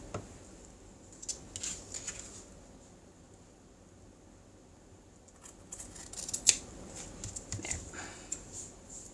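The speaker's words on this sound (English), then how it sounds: "And I actually want to cut this a little bit shorter." Scissors cutting envelope paper for a junk journal, making soft close snips and paper rustles in a quiet room, with a few sharper cuts partway through.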